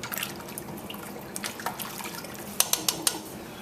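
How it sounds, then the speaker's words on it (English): Water poured from a tap or jug into a soup pot for a Caribbean-style smoked turkey soup, a steady moderate splashing rush with a few sharper splashes near the end. "Now top it up with about 10 to 12 cups of water."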